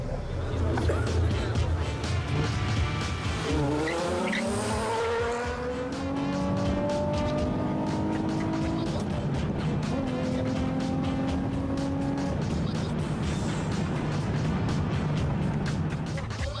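Street racing cars roar past on a city road at night, with engines revving loud and steady, rising and falling gear shifts, and a tire-squealing pass mid-way, all continuous with speech over the noise.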